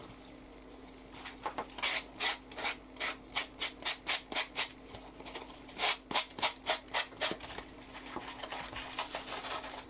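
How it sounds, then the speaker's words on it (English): Rapid rhythmic scratching of a sanding block rubbing back and forth along the paper edges of a mini album, in bursts of quick strokes with short pauses between, close and fairly loud. "I'm just going to use my sanding block and just go around the edges"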